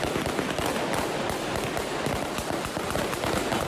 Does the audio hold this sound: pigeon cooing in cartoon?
no